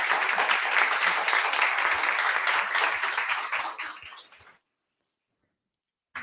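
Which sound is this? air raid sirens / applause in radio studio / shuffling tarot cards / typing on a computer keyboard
applause in radio studio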